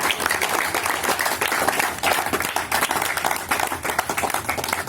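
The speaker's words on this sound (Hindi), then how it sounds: "एक बार जोरदार तालियों के साथ फिर से स्वागत कीजिए सभी मुख्य अतिथियों का" An audience at an Independence Day event claps loudly to welcome the chief guests. The clapping comes as dense, uneven bursts that surge and dip over several seconds with no talking.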